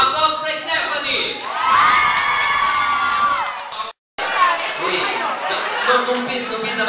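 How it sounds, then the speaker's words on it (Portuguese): An audience at a daycare Christmas party cheers and shouts, with children's voices prominent in a loud, sustained crowd roar that cuts out briefly, then resumes with excited chatter. "Aplausos para Stephanie!"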